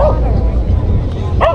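Golden retrievers bark in short yips at a dog beach, one bark at the start and another near the end, over a steady roar of wind or surf with faint voices in the background.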